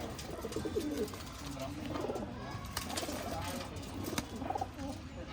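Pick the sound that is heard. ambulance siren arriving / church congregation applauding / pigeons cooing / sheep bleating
pigeons cooing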